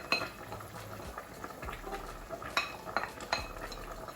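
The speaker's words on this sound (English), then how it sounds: "So I just stir it. Just stir it so that it mix together." Ogbono is stirred into a pot of Nigerian soup with a spoon, making steady scraping and clinking against the pot over a soft bubbling simmer, close up.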